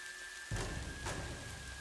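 Steady rain falls on a surface in a continuous hiss, with a dull thump at one point, moderately loud with no voices.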